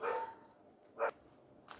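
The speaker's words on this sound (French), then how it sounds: "j'ai dû faire rentrer les chiens qui aboyaient" Dogs bark a few times at a distance in a home, short faint yaps separated by quiet pauses.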